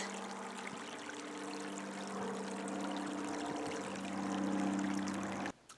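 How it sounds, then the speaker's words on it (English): Creek water flows steadily and close by, a continuous rushing trickle with no voices, cutting off abruptly at the very end. "I love the sound the water makes"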